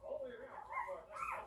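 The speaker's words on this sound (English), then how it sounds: "see how he just started a little bark" A newborn American bully puppy gives small, high whimpering barks and yips, close and quiet, with a person talking over them during the whelping.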